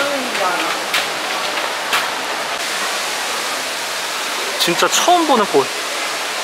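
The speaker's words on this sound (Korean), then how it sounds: "그 폭포 완전 끝까지 올라가는가 봐." Steady broadband rush of the indoor waterfall in the Cloud Forest dome at Gardens by the Bay, Singapore, a constant near wash of falling water with people talking over it.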